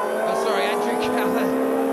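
Lotus Elise race cars howl around Brands Hatch in a steady, loud engine drone with shifting pitch as they jostle for position, while a commentator talks continuously over the racing.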